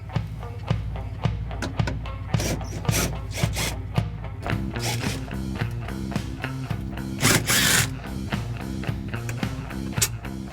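Retaining nuts being worked off the taillight studs of a 1967-1968 Mustang taillight housing, with close, continuous scraping and ratcheting tool clicks in a steady rhythm for about ten seconds.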